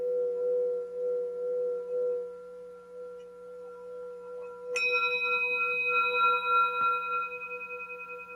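A steady sustained tone hums, then a singing bowl is struck with a bright metallic strike that blooms with shimmering overtones that ring on and slowly fade.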